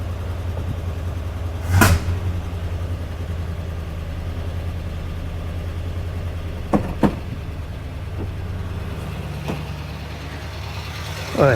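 1976 Dodge Club Cab truck idling with a steady low engine drone, broken by one sharp loud pop near the start and a couple of quieter cracks later.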